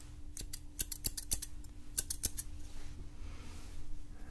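Barber's scissors snip hair close to the ear during an Italian-style haircut, a quick series of crisp metallic cuts in short bursts over a faint steady hum, with no voices.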